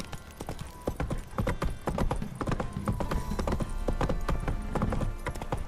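Horse hooves clip-clop steadily on hard ground in The Witcher 3, a brisk, evenly paced run of close, crisp hoofbeats that carries on alone throughout.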